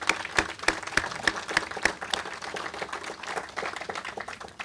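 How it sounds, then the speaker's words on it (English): Applause from the audience at a Memorial Day ceremony, a dense patter of many hands with a few sharp, louder claps standing out near the front, holding steady for several seconds. "let's give a round of applause to them"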